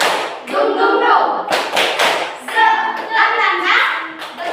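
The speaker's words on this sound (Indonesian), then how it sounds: "Ayo coba tepuk semangat" A group of children and adults at a school coaching session claps out the rhythmic tepuk semangat cheer, chanting along in bursts of patterned claps, close and lively.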